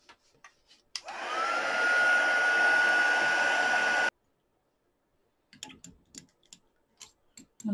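Hair dryer blowing on wet paint whooshes loud and steady for about three seconds, then cuts off, followed by faint clicks and light handling noises.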